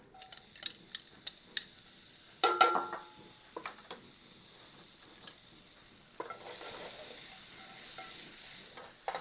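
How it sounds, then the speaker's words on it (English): Shallots sautéing briefly in a hot pan: a light sizzle with scattered clicks and utensil taps, then a steadier hiss building near the end. "Okay, we're going to saute our shallots just for a second, just like garlic."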